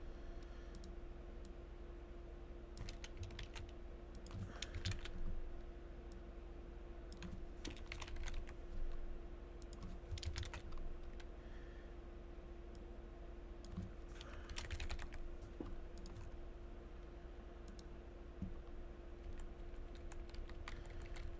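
Keyboard keys are pressed in quick irregular bursts of soft clicks and taps, separated by short pauses, over a faint steady electrical hum.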